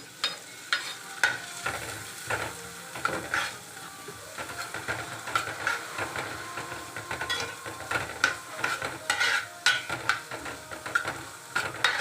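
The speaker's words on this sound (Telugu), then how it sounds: "ఆ పన్నీర్ ఆయిల్లో వేసుకోవాలి ఇది కొద్దిగా రోస్ట్ అయ్యాక ఆనియన్స్ పచ్చిమిర్చి వేసుకోవాలి" Grated paneer with onions and green chillies frying in oil for bread masala, a continuous close sizzle with frequent scraping stirs and pan clatter throughout, and no speech.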